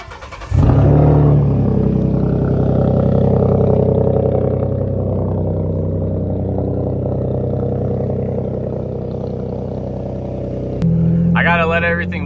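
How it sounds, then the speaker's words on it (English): A Ford F-150 pickup truck's engine cranks and fires on a cold start with a sudden loud roar, settles into a rough, steady idle, then revs up sharply near the end. "Get us a little cold start action."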